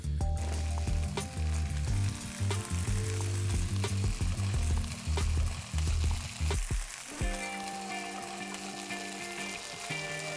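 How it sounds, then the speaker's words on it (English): Mutton, stock and Kabuli chickpeas sizzle loudly in a pot on high flame for Afghan-style pulao, with bursts of frying crackle and stirring clatter that drop to a quieter steady simmer near the end. "Time to add in the meat, the stock, and the Kabuli chana"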